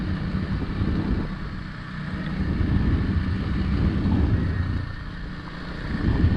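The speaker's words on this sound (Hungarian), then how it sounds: "Nekem meg jó ez a motor." A Kawasaki motorcycle engine drones steadily while riding across open puszta grassland, a continuous low rumble mixed with wind buffeting against the microphone, no talk.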